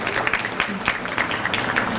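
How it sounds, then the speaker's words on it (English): Brief, dense applause from guests at a UN Day luncheon of a Northeastern Pennsylvania chapter, steady and fairly close, with a voice faintly mixed in. "Let's give that a round of applause."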